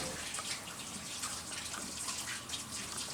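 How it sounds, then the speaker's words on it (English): Tap water runs steadily into a kitchen sink while hands are washed beneath it, a soft continuous splashing hiss at moderate distance with no talk. "I'm going to wash my hands."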